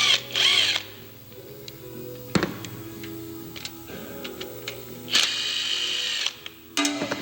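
An impact wrench loosens the oil filter adapter bolts on a 6.7 Powerstroke diesel engine in a few short, loud hammering bursts. Quieter clicks and tool handling fill the gaps between them.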